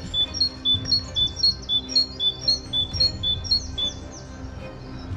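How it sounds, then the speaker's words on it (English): A wild bird sings a rapid, evenly spaced series of high, sharp chirps, close and clear against a quiet outdoor background, with no voices. "listen to this bird"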